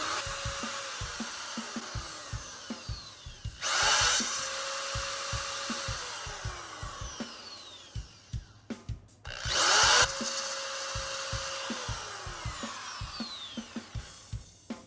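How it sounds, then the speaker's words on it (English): An electric drill whirs nearby, drilling out screw holes in an Epiphone Les Paul Standard guitar body, and surges loudly twice, with steady rhythmic clicking throughout and no voices. "so I'm gonna drill them out"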